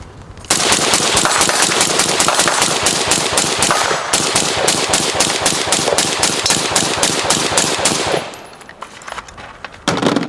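An Energetic Armament Ferox suppressor test: loud, close full-auto gunfire rattling in long rapid strings, magazine after magazine, with one brief break for a reload and more shots resuming at the very end.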